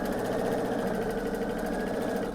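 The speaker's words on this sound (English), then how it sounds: "Slowly sew over that bulk." A sewing machine slowly stitching over the bulky seam of a pieced quilt runs in a steady, close mechanical hum with fine rapid ticking, continuous and alone without talk.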